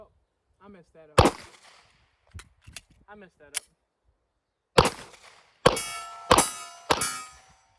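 Gunfire at an outdoor shooting range strikes small one-inch steel targets, sharp loud cracks with ringing metallic clangs, several spaced shots in a burst near the end, with talk heard between them.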